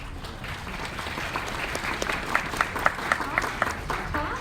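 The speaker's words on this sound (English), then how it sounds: "Clapping." Audience applause at a VidCon panel on writing scripted content, building from scattered claps into a fuller burst of clapping with some sharp individual hand claps standing out near the end.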